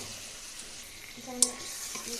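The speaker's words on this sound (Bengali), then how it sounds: "দেখে গাইস মাংস রান্না হচ্ছে।" Chicken meat frying in a pan, with a soft, steady sizzle under low clatter and a brief sharp clink partway through; a voice speaks faintly in the background.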